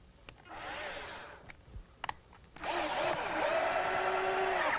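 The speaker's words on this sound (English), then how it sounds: "I'll put a screw in, and I'll put this on the highest torque." A cordless drill set to highest torque whirs in a short burst, a few clicks follow, then a longer, steadier high-pitched whine as it drives in a screw.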